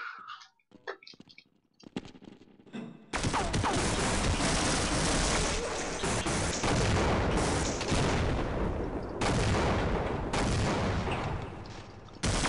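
Gunfire in the shooter Half-Life: a few scattered sharp shots at first, then a sudden loud, sustained barrage of rapid automatic fire mixed with booming blasts that runs without letup to the end.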